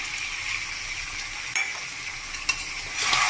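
Spiced chicken frying in a pan as water is poured in, giving a steady close sizzle with a couple of sharp bursts and a brief rise in hiss near the end.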